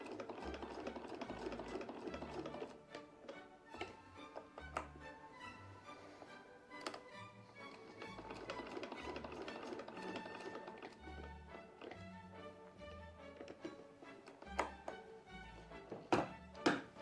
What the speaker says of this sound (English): I much prefer this sewing machine over modern ones.